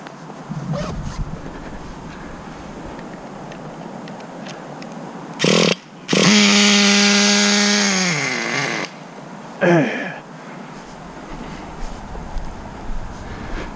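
A Traxxas Nitro 4-Tec 3.3 RC car's nitro engine revs in a loud, buzzy whine, rising and settling over a few seconds with shorter blips before and after, amid outdoor wind noise.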